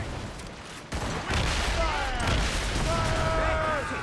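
Ship cannons firing during a naval battle in the video game Assassin's Creed Rogue, heard as a loud, dense fusillade of booms over a constant roar. Crew voices shout through the barrage.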